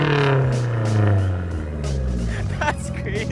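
Mazdaspeed 3 engine on a 2-step launch control, a loud, close, sustained low droning tone that shifts pitch, with a sharp pop near the end, partly under excited talk.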